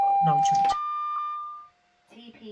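Steady electronic tones and a held warning beep in a Class 68 locomotive cab in Train Simulator, an AWS/TPWS self-test, followed by a brief softer chime, with cab sounds beneath.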